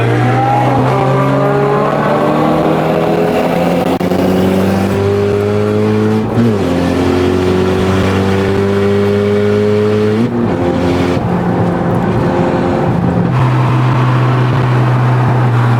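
A loud sleeper car engine revs hard at a drag race in Istanbul, its pitch climbing steadily through several gear changes as it accelerates, close and continuous.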